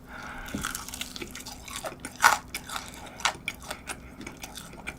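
McDonald's McWings bitten and chewed up close, a sharp crunchy bite followed by wet, irregular chewing and smacking sounds against a quiet background.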